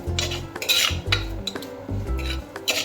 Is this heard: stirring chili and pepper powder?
yes